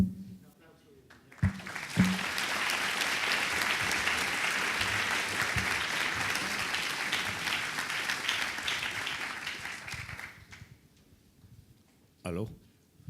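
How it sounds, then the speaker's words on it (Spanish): A lecture audience at a 1960s culture and revolution talk bursts into dense, sustained applause for the speaker, about eight seconds of full clapping that fades out, with brief voices before and after. "les agradezco mucho el aplauso"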